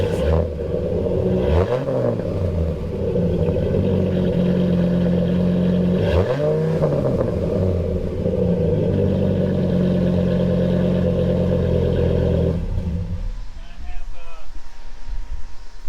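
A car engine fitted with an aftermarket exhaust idles with a deep steady rumble, rising in two clear revs near the start and middle before cutting off toward the end, heard up close.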